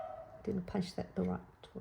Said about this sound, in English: So please bear with her barking and squealing.